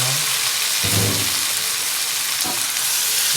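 Pork meat sautéing in a pan for Filipino dinuguan, a loud steady sizzle and frying hiss throughout, with a couple of brief stirring clatters as the meat is moved around.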